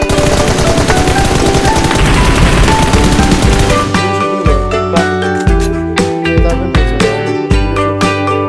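Loud, sustained automatic gunfire in PUBG Mobile, continuous bursts for the first few seconds, then separate sharp shots and short bursts with booming low thuds spaced irregularly until the end.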